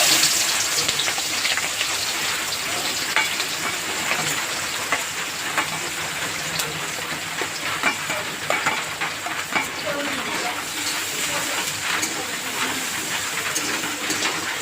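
Chopped onions with garam masala hiss and sizzle steadily in hot oil in a pan for a chicken curry, a loud, even crackle with occasional sharper pops and faint stirring.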